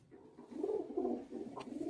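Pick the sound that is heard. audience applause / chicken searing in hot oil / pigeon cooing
pigeon cooing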